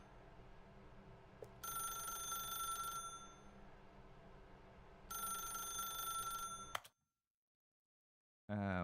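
A telephone in The Stanley Parable video game rings in two long electronic bursts separated by a pause, then the sound cuts to silence.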